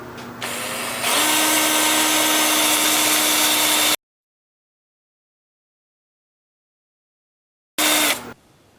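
A power sander works on a 7-inch alder live-edge wooden bowl, a loud steady whine that runs for several seconds, cuts to silence, then briefly returns.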